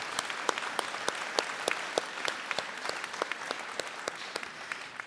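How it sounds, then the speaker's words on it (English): An audience at a college convocation ceremony applauds online graduates, a dense round of clapping with individual sharp claps standing out clearly near the front, steady throughout. "Let's all give a round of applause to our online graduates."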